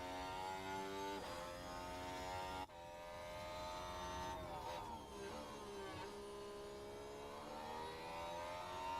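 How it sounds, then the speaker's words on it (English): Formula 1 cars run on track during third practice at the Spanish Grand Prix. Their engines whine with a steady, high-pitched note that shifts as the cars pass, heard distantly and continuously without talk. "It's like more cars coming out on track now."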